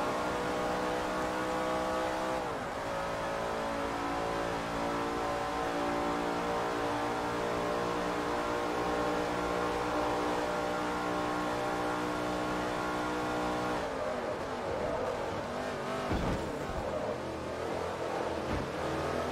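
A Holden touring car engine drones loud and steady in Forza Motorsport 3, holding a rich harmonic tone with a brief dip in revs near the start and rougher shifts toward the end, heard on its own without talk.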